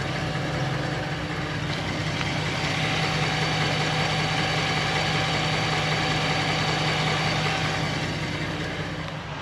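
A Ford Raptor truck idles with a transmission whine, a steady, close engine drone with a faint thin whine riding on top that continues evenly throughout without speech.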